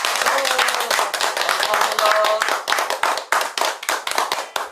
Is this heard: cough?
no